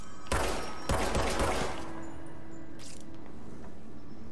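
A rapid burst of gunfire in the game Control at the start, several sharp cracks in quick succession, then a lingering electronic hum and faint game effects.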